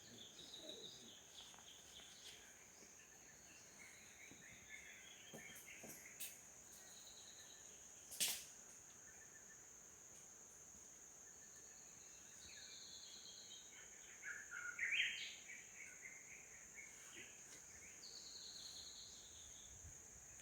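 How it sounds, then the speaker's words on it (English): Quiet forest ambience in Mabira forest, Uganda, with a constant high insect drone and a few faint, brief bird calls and chirps in the distance. "So those are different species of birds."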